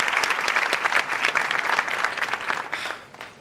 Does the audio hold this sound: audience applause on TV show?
yes